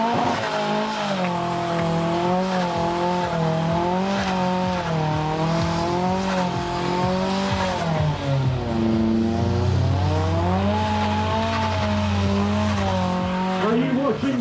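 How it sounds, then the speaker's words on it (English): A BMW M5 with a fault revs hard in a burnout, its steady loud engine note rising and falling with tire squeal across the whole stretch, while a crowd at an event is heard faintly beneath. "the car's going to burn out here"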